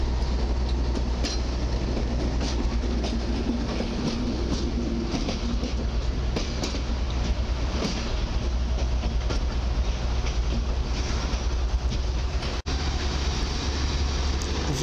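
A PKP Energetyka railway draisine rolls steadily along the tracks at Warszawa Zachodnia station, with a continuous rumble and faint rhythmic clicking of wheels over rail joints, fairly close throughout.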